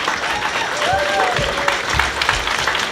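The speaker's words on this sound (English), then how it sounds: "So I think we should all give a big thank you and a big round of applause to Carla, Bristol, and Vidal." Audience applause at the opening ceremony of a furry convention weekend: steady clapping from a roomful of people, with a few whistles and voices over it and some low thumps underneath.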